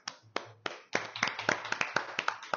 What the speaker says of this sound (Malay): Tepukan untuk diri sendiri.